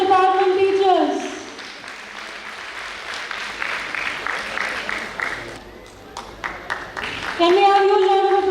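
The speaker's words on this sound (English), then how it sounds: "Can we have a huge round of applause for the department teachers?" An audience at a school arts fest applauds the department teachers in a broad wash of clapping between stretches of a loud announcer's voice over the PA.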